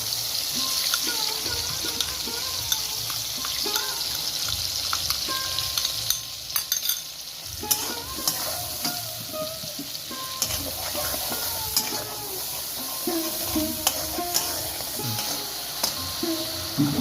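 Ground spice paste frying in a hot pan for a Bengali fish curry with potato and eggplant, a continuous close sizzle under repeated scraping stirs, with a brief splash of water partway through.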